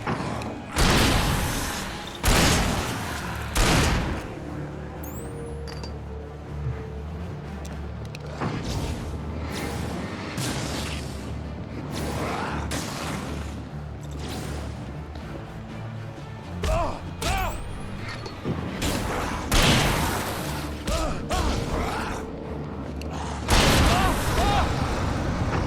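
Gunfire from the video game Alan Wake: a string of loud, heavy shots and thuds in irregular bursts, with game effects and rumble between them and a voice talking over parts of it.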